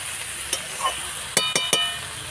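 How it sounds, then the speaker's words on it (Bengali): Cauliflower and curry leaves fry in a pan with a faint background sizzle, broken by a few short scraping strokes of a spoon being stirred through. "এবার ঢাকাটা খুলে দিয়ে আবার একটু নাড়িয়ে চাড়িয়ে নিতে হবে,"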